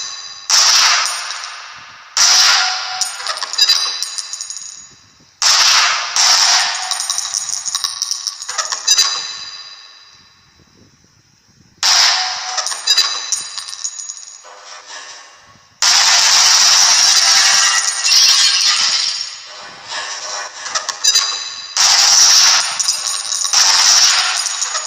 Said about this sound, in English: To fire your grenade launcher, use your alternate fire button.